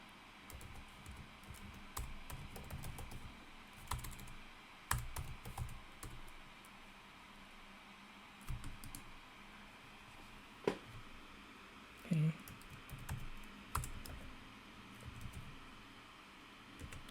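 Keys are typed on a computer keyboard at a desk as an OpenSSL command is entered, with irregular bursts of clacking keystrokes and pauses over a low steady room hum.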